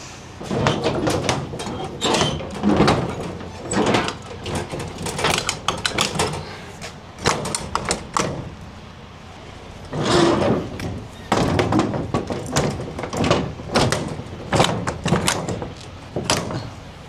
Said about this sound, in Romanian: Hai să închidem ușile